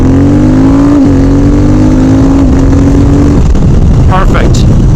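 Triumph Speed Twin motorcycle fitted with a Healtech quickshifter, its engine revving up close and loud with a rising tone, then a quick gear change that drops the pitch before it pulls on again.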